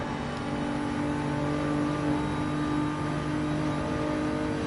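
Race car engines drone in a steady, unbroken roar down the long straight of the Nürburgring in a 24-hour racing video game, holding a constant pitch and level throughout.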